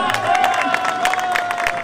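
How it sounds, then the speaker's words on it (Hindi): Wedding guests clapping and cheering as the bride and groom enter, a busy crowd noise of scattered claps and raised voices under music-like tones, brief and moderately loud. "इनके लिए जबरदस्त ताली होनी चाहिए"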